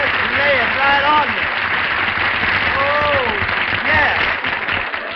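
Studio audience applause rolls on as a dense, steady wash of clapping, with voices calling and talking over it throughout.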